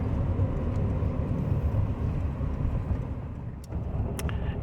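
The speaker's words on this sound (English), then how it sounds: "I'm like coasting in third gear because I have no accelerator pedal." Interior of a car coasting in third gear with no accelerator pedal, a steady low road and engine rumble with no revving, plus a brief knock near the end.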